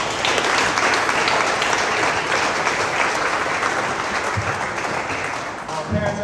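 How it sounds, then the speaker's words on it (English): An audience at a high school awards banquet applauds the parents, a dense, sustained round of clapping that fills the room and tapers slightly near the end, with speech mixed in. "if you could give your parents a round of applause"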